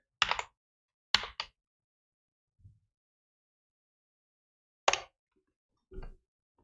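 A few brief, sparse clicks of a computer keyboard in a quiet room: short clattering key presses in small clusters separated by silence, close and fairly faint.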